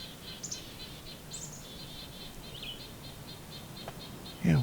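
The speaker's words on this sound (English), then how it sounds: "Oh, we got goldfinch." Goldfinch calling outdoors in winter, a few faint high chirps and twittering notes over a soft background hiss, ending with a brief close rustle.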